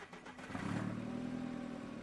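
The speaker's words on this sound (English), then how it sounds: "Start the car with the van keys." A car engine starts and settles into a steady idle in a horror video game set in the Ohio forests, the ignition turned with van keys; the motor rumbles close and continuous after a brief clattering start.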